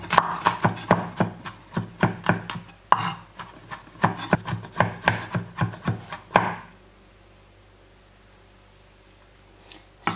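Four garlic cloves chopped with a knife on a cutting board, a rapid run of loud, close, evenly paced blade knocks for several seconds, then quiet room tone with a lone faint tap at the end.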